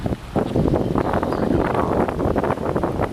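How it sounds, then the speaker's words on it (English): Wind rushes steadily through quaking aspen trees in a mountain canyon meadow, a loud, continuous gusty roar with rustling leaves and no talking. "the wind's blowing and it's quaking, you know, in the trees and the aspens"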